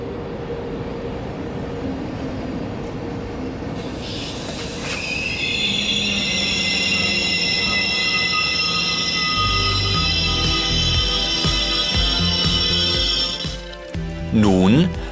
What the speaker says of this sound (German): zieht nun eine E-Lok der Baureihe 111. Einen Zug aus Aalen in den Hauptbahnhof.